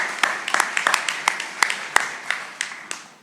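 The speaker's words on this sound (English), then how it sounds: "So let's give you all a nice round of applause." A small group gives a sparse round of applause for first-time attendees at a cooperative's annual meeting, with distinct individual claps in an uneven rhythm that gradually thins out.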